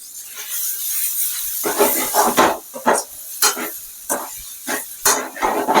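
Cauliflower masala fry being stirred in a pan: a spoon scrapes and clanks against the metal in a rapid, uneven series of close, bright strokes over a soft, steady sizzle.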